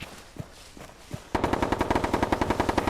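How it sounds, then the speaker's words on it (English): A few soft footsteps, then a sudden burst of rapid automatic gunfire in the shooter game Bellum, loud and close, firing in a steady quick rhythm. "I'm hearing a lot of gunfire down there."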